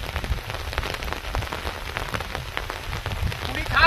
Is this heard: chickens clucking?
no